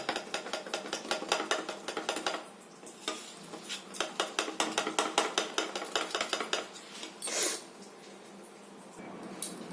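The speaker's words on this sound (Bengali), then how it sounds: "এবার এতে আমি একটু জল মিশিয়ে দিচ্ছি" Spoon scraping and clinking against a metal pan while water is stirred into a spice sauce for soya chilli, a steady run of close, rhythmic strokes with brief pauses.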